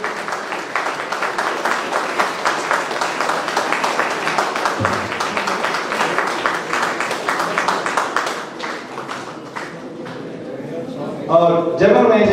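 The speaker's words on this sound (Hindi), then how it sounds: "जोरदार तालियों से आप वसुंधरा कुमारी जी का स्वागत करें।" An audience applauding at a national seminar, steady rapid clapping from many hands held for several seconds before thinning out, with voices rising near the end.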